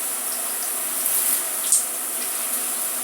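Water runs steadily from a tap during a wash-and-go hair styling routine, a soft continuous hiss with no voices over it.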